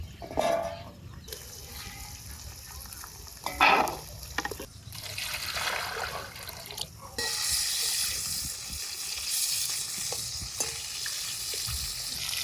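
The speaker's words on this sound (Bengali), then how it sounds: "এই মাছগুলো ভাজা হয়ে গেল।" Katla fish frying in oil in a pan, a steady wet sizzle with brief louder bursts of spatter and stirring, growing denser and louder in the second half, close by with no talk.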